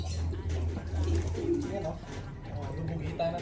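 Racing pigeons coo softly and repeatedly amid a busy, muffled background with low rumbling and some voices, in a flooded loft.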